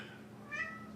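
A cat gives a single short, faint meow partway through, over a quiet hum in an indoor room, with no talking.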